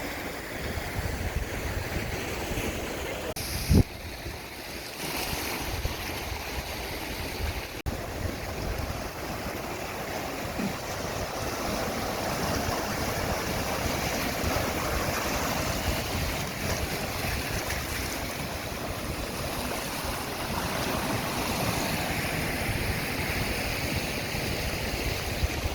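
Sea waves wash against the shore at Arguineguin, Gran Canaria, a steady broadband surf and wind roar lasting the whole stretch, with one brief sharp knock early on and no talk.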